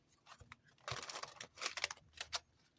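Tarot cards shuffled by hand, faint and close: a few soft flicks, then two short bursts of riffling cards in quick succession.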